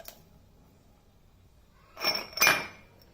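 Soaked almonds drop into a glass container for a thandai drink, giving two close, bright clinking rattles in quick succession after a quiet stretch.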